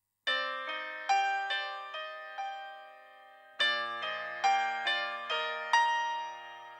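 Grand piano notes played through a high-pass filter, giving a thin, tinny, radio-like tone; a sequence of separate struck notes and chords, each decaying, with a short pause midway and no talk.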